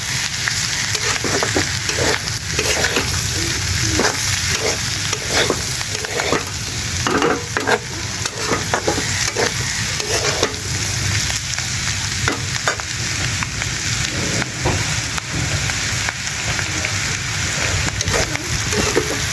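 Shrimp frying in a pan with bitter gourd (karela), a steady loud sizzle broken by repeated scraping strokes of a spatula stirring through the whole stretch, close up and continuous, with no talking.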